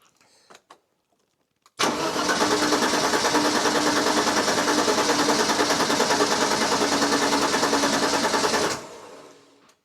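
A TVR S3 sports car engine cranks over steadily with throttle wide open and a pressure gauge on one cylinder, a loud, even, rhythmic churning lasting about seven seconds before stopping.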